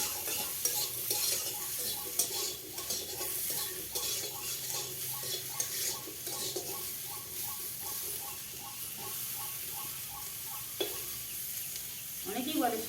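Snake gourd frying lightly in oil, giving a steady close sizzle under rhythmic spoon scraping and ticking taps against the pan, with a brief clatter near the end.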